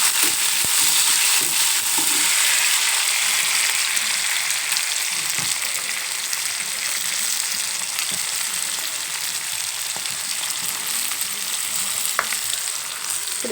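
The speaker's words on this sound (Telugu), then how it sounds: "ఇలాగ టమాటాలు ఉల్లిపాయ వేగినప్పుడు మనం బాగా ఇది వేగనివ్వాల" Tomatoes and onions fry in a pan for a potato and eggplant curry, giving a steady, loud sizzle that carries on without a break. Faint stirring scrapes and small pops sit on top, and nobody speaks.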